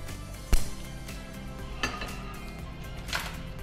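A metal cooking pan is handled in a kitchen, with three separate clanks and clinks against a steady background hum, the first knock loudest.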